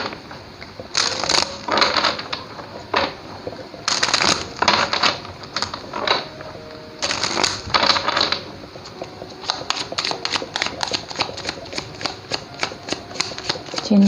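Tarot cards shuffled in repeated bursts of crisp riffling and flicking, close and fairly loud, with short pauses between runs and quick taps near the end.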